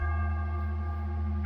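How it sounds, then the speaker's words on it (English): An eerie doorbell in The Casting of Frank Stone video game sounds as one sustained, resonant chime with a steady ringing tone that lingers without fading, fairly quiet and heard alone. "Creepy doorbell."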